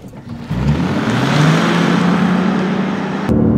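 A Lexus GS 450h hybrid sedan in sport mode, air conditioning off, launches from 0 to 60 mph at high altitude. Its engine and electric drive surge into a loud, steadily climbing drone that cuts off abruptly near the end.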